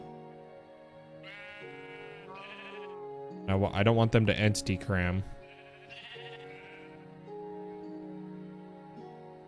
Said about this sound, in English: A lot of sheep.